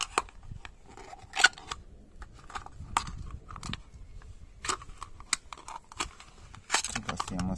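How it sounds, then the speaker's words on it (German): Garden scissors trim the base of a fig tree cutting, Ficus carica, giving scattered sharp snips and crunches up close, mixed with handling noises and quiet talk. "Unten müssen wir noch ein bisschen nach mit der Schere."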